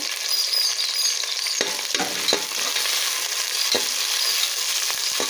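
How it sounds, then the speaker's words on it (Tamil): Sliced onions sizzle and fry in a hot pan for vegetable rice, a steady crackling hiss broken by a few sharp clinks and scrapes of stirring, close and with no talking. "இப்போ வெங்காயம் சேர்த்து வதக்கிடலாம்"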